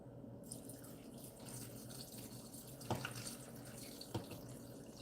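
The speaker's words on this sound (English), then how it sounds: "I think a little bit more water. I'm using our good water." Filtered water pours from a bottle into a pot of homemade soup, a faint, steady trickle with a couple of small knocks and splashes, no talk.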